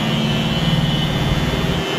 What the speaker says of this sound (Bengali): প্রথমে জিরো মেশিনটা চালিয়ে নিলাম।